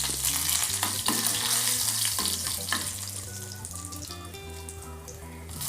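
Dried red chillies frying in oil for sambar, a steady crackling sizzle alongside low humming tones and occasional clatter, moderately loud and without speech.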